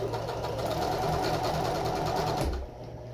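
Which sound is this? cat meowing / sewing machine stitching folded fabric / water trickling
sewing machine stitching folded fabric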